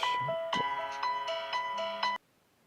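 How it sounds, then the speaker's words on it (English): A phone ringtone from an incoming call chimes in a bright, repeating melodic pattern of short tones for about two seconds, close and clear, then cuts off abruptly into silence. "I had a phone call coming in mid-process."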